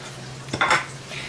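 Onion going into a hot pan: a short clatter followed by a quick burst of sizzling, close and fairly loud, then a quieter frying hiss.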